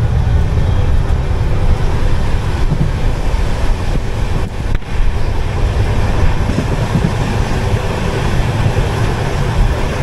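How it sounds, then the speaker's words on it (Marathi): Steady loud rumble and rattle of a moving train carriage, continuous broadband noise with a brief dip partway through, no talking. "ट्रेन मध्ये बसलोय"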